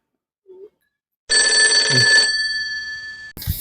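A telephone rings loudly for about two seconds after a brief faint sound, with a steady electronic tone trailing on before a short sharp noise at the end; no one speaks.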